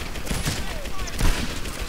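Gunfire in the video game Medal of Honor, a busy stretch of rapid shots and battle noise layered over a game soundtrack.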